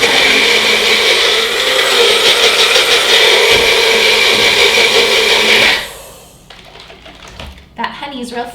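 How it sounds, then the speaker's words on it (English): A container holding a thick chai spice and honey mixture is shaken hard, giving a loud, dense rattling for about six seconds, then stopping into quieter handling sounds and speech. "I'm gonna give it a nice little shake and do it one more time."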